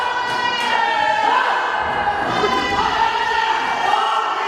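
A wrestling crowd at an NWA Mountain State show cheers and jeers, a steady, loud wash of massed voices and shouts filling the hall throughout.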